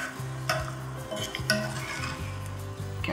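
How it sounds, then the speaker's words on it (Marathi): Spoon stirring a yogurt gravy with water, salt, sugar and green chillies in a pot, with steady scraping swishes and a few light metallic clinks, close and alone without talk. "पाणी घालूयात कन्सिस्टन्सी ॲडजस्ट करण्यासाठी, चवीपुरतं मीठ, साखर, हिरव्या मिरच्या मिक्स करूया।"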